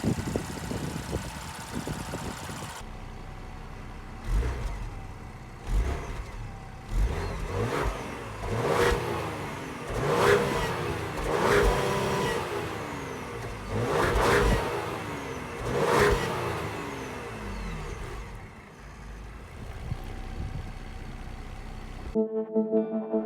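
A 2020 Ford Explorer ST with a 400-horsepower 3-liter turbocharged V6 revs loudly and close up in a series of sharp throttle blips and falling returns, with no talking.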